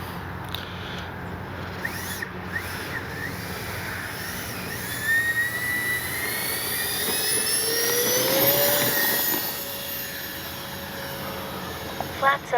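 A Freewing AL-37 radio-controlled jet takes off with takeoff flaps set, its electric ducted-fan whine rising and falling in pitch as it climbs and passes nearby, with steady outdoor noise beneath.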